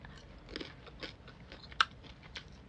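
Someone chews a rice noodle salad mixed with sago palm weevil larvae, making soft close crunches and wet bites in an irregular rhythm, with one sharper crunch standing out.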